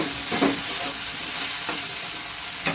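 Bengali-style spice masala being stir-fried in a pan for chana dal with taro root, a steady close sizzle broken by a few sharp scraping stirs of the spoon, no voices.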